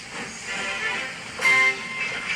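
A steam train engine pulls away from a station with a steady rolling rumble and a short, louder burst midway, heard fairly close and without talking.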